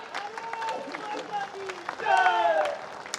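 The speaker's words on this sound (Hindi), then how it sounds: "एक बार पुरजोर तालियां।" Audience applause at a patriotic Hindi poetry recitation event, steady clapping swelling and growing louder in the second half, with voices and shouts mixed in over it.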